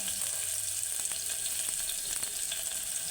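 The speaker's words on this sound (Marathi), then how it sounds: "थोडीशी लसूण कांदा परतवून घ्यायचा चांगला" Garlic and onion sautéing in a pan, a steady, dense sizzle of frying throughout with a few faint stirring scrapes, close and continuous.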